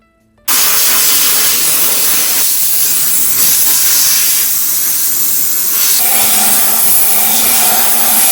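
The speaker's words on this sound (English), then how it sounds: "So now I'm just gonna steam it," Steam cleaner hissing loudly and steadily as it steams a corner of a hard surface, starting abruptly after a brief quiet moment and continuing as a broad, close hiss for several seconds.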